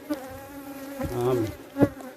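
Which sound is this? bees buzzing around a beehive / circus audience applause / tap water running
bees buzzing around a beehive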